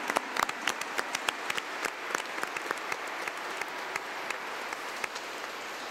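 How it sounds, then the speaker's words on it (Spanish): Congregation at a Mass in honor of the Virgin of Luján applauds, a steady wash of many hands with sharp individual claps popping out, fairly distant in a large church, lasting several seconds. "Le damos un fuerte aplauso a la Virgencita."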